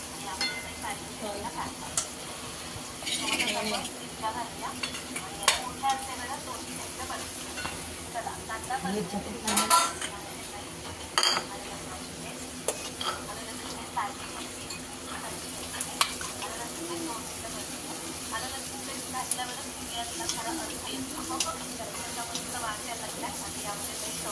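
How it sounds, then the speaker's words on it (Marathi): Onion and green chili sautéing in oil for paneer biryani, a continuous low sizzle with occasional stirring scrapes and clinks, voices talking faintly in the background. "कांदा मिरची टाकला ते टाकल्या तेलामध्ये थोडा परतून घेत आहेत"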